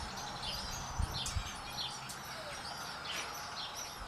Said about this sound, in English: A bunch of little chirpers going off behind me there in the nest.